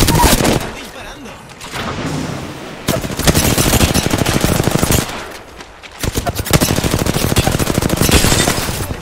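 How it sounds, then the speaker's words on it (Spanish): Automatic weapons fire in the video game Apex Legends, loud and close, arriving as rapid rattling volleys separated by brief lulls. "¡Están disparando!"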